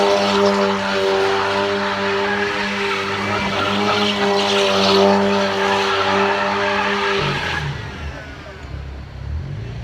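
Car tires skidding and laying down rubber at a street race during a car meet, a loud sustained engine and tire roar with steady tonal whine that drops off sharply near the end into lower rumble.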